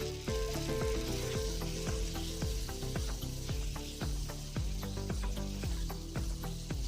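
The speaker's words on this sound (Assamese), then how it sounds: "এতিয়া চিকেনখিনি ভালদৰে লৰাই লৰাই ভাজি থাকিব।" Marinated chicken stir-frying in a pan for an Assamese chicken curry: a steady sizzle runs throughout, nearly masked by rhythmic background music.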